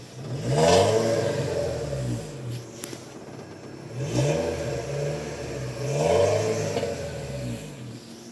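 A Renault Megane 3 engine revs up three times with the gas pressed, each rise swelling and falling back to a steady idle, heard close and alone without talk.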